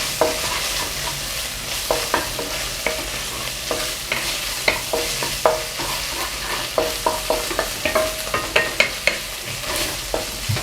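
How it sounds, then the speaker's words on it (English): Tobanjan sauce and spices for Korean-style mapo tofu are stir-fried in a hot pan, giving a steady sizzle broken by repeated scraping and clattering strokes of a spatula, close and fairly loud, with no talking. "really cook tobanjan sauce as well"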